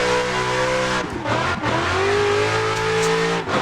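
A BMW E36 drifts in the Assetto Corsa racing game with a loud, sustained engine howl that dips briefly as revs drop and then climbs again, with tire squeal mixed in and no voices.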